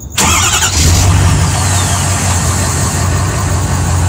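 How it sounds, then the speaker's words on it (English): Ford F350 trucks in Farming Simulator 2015 start up. A quick crank catches into a loud, steady, mid-pitched engine idle that runs on without a break. "let me just start them up quick for you guys"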